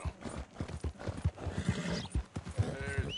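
Horse hooves clip-clop on the ground in Red Dead Redemption 2, a quick steady rhythm of hoofbeats close by, with a brief whinny and faint background ambience.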